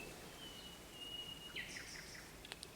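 A faint, thin whistle holds steady before a few short high chirps break out, distant and soft over a hushed outdoor background.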